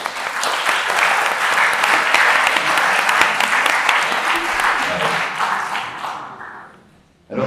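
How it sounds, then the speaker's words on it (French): Dense applause from a large audience at a French gathering promoting secularism, loud and steady for about six seconds before thinning out and stopping abruptly. "On applaudit tout ce monde-là."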